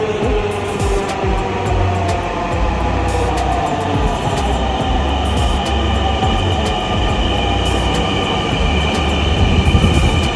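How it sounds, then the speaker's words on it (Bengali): A Dhaka metro rail train pulls into a station with a loud, continuous rumble of wheels and carriages. Sustained metallic tones and squeals ride on top, all close and with no voices. "আর এই যে হচ্ছে আমাদের ট্রেন চলে আসছে।"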